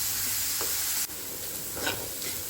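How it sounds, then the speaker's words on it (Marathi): Onions fry toward golden brown in a pan, giving a constant close sizzling hiss broken by a few soft stirring scrapes, with no voices. "कांदो न्ही आमकां आतां एक गोल्डन ब्रावन जाय मेरेन हितून फ्राय करून घेवपाक जाय."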